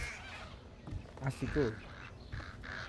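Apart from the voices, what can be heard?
pigeons in a video game (Thief)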